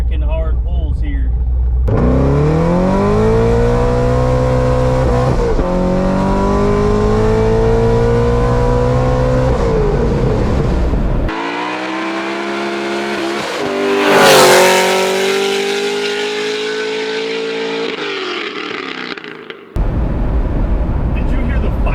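A 2013 Chevrolet Corvette 1LT's high-revving V8 pulls hard through the gears, loud and close, with rising pitch sweeps and brief drops between shifts.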